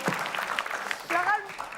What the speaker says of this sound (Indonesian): Boleh kita kasih tepuk tangan lagi?